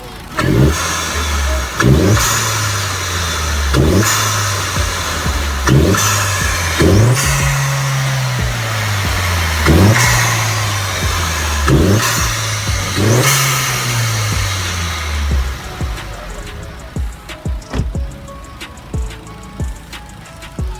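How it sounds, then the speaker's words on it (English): A Vauxhall Corsa VXR fitted with a stage 1 induction kit revs repeatedly in short, loud bursts, each rise in engine pitch falling back to idle, before settling to a quieter idle with faint background noise. "So that's the stage 1 induction kit for my Corsa VXR."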